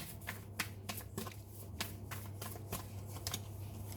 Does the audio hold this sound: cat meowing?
no